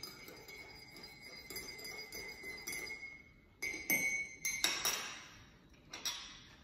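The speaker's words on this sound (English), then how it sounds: "let me just stir it again" A spoon stirring coffee in a glass, with close, bright clinks and rings against the sides, gentle at first, then a few sharper taps near the end.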